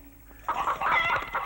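A chicken lets out a short run of close, loud clucks in quick succession after a brief quiet moment.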